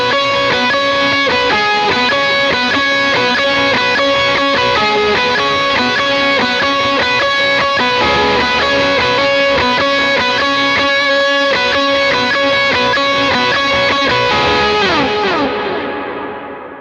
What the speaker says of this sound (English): it's basically my biggest drive, distortion in this case.